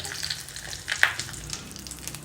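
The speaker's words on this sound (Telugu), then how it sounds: "ఇప్పుడు ఇది 2 వైపులా బాగా వేగింది." Aloo paneer frying in ghee in a pan, a steady close sizzle with a brief sharper spatter and a light clink midway, and no voices.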